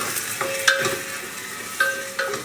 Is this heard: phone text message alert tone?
no